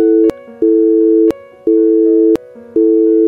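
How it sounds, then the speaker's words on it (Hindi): A phone call's disconnect signal plays as loud, steady repeating beeps, each tone held about a second with short gaps, clear and alone. "फोन कट होने की आवाज,"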